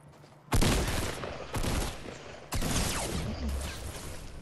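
Shotgun blasts in the Fortnite video game, three heavy booming shots about a second apart, each with a broad crack and a lingering tail, loud and close with no talk over them.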